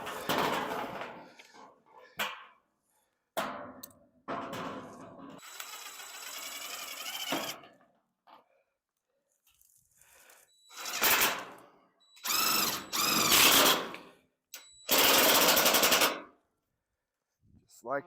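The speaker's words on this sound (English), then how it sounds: "All right, let's get some screws in this." Screws are driven into a wooden pig shelter in short, loud whirring bursts from a power driver, separated by quiet pauses and a few brief sharp clicks, with a voice heard faintly between them.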